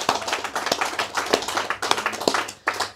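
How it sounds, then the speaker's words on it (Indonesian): An audience claps for Mr. TM with irregular, dense hand claps and a few sharper slaps standing out, fairly close and steady throughout, no talking over it. "Tepuk tangan untuk Mr."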